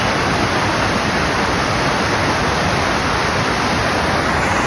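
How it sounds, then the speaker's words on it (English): Kings Creek in Lassen Volcanic National Park cascades down like a waterfall, a loud, constant broadband rush of water close by, with no voices. "This is like a waterfall in itself."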